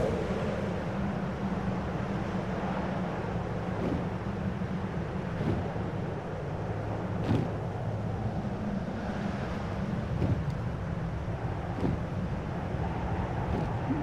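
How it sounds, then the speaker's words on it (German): Wind blowing in the video game AER Memories of Old, a steady airy rush with low rumble and faint intermittent ticks, continuous and moderately loud with no talk. "Kann man das überhaupt als Strömung bezeichnen, diese Winde?"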